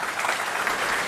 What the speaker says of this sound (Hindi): पुनः एक बार तालियां सबके लिए